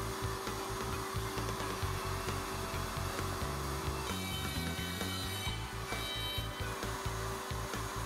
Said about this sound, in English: When routing box joints, the board is always flipped, keeping the same edge against the side stop.